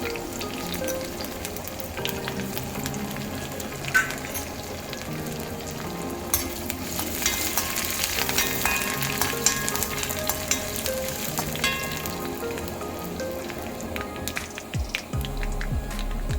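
Chopped shallots, green chillies and curry leaves fry in hot oil with a steady, busy sizzle and crackle, close and fairly loud, with occasional stirring scrapes and no talking.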